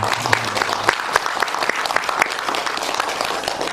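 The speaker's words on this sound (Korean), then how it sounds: "우리 하나님께 영광과 존귀와 찬양의 박수를 한번 올려드립니다" A Korean church congregation gives a dense round of applause during Sunday worship, many hands clapping steadily and loudly in a reverberant room.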